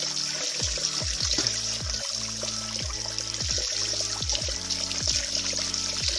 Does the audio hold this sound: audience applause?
no